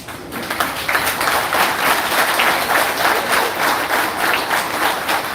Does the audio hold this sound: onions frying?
no